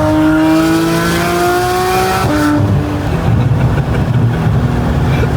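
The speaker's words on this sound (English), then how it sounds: "Listen to how insane this car sounds." Porsche GT3 fitted with an aftermarket exhaust, its engine roaring loud and close with rising rev tones, then shifting into a rougher, steady drone as the car keeps running.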